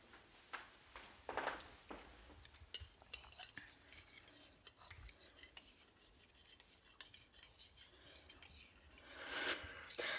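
A fork twirls spaghetti all'amatriciana on a plate, making light scraping and clinking against the dish in irregular bursts, close and fairly quiet, with no voice over it.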